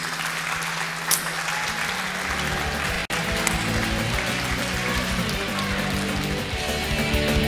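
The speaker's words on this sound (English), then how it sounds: "Round of applause, please." Loud, sustained applause and cheering from a crowd at a DreamHack gaming event, filling the whole stretch with dense clapping close to the microphone.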